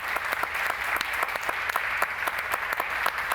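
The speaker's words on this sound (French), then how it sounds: "On peut les applaudir." An audience at an indoor panel discussion applauds steadily, a dense even patter of many hands clapping at moderate volume throughout.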